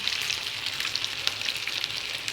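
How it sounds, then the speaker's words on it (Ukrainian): Oil sizzles steadily as potato pancakes (deruny) fry in a pan, a dense continuous hiss with small crackling pops, fairly quiet and even throughout, with no voices. "Я зараз знову олію підлю, бо мало олії."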